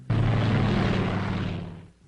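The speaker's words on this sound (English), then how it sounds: "A plane would literally yank them into the air, then let them go." A WWII-era propeller plane towing a glider into the air gives a loud, steady droning roar that fades slightly at the end.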